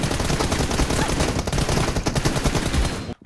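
Loud, continuous automatic gunfire in a video game, dense rapid shots for about three seconds that cut off abruptly at the end.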